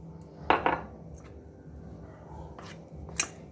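A spoon stirring rice flour in a bowl for carrot malpua batter, giving a couple of close metallic clinks and scrapes early on, then quieter mixing before one more bright tap near the end.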